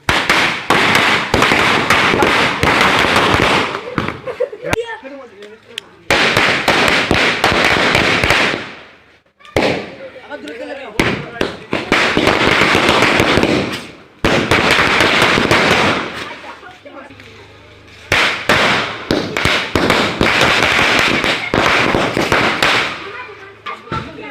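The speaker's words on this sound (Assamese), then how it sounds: "কিমান ফটকা মাৰিব, কিমান মাৰি দিম আৰু ফটকা" Rapid strings of Diwali firecrackers bursting in dense crackling volleys, loud and close, stopping briefly between bursts before starting again.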